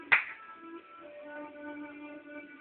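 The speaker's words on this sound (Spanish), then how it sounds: "Aplaude, ¿no?" One sharp, close hand clap aimed at a sound-activated switch is followed by a faint, lingering tonal ring and quiet background voices.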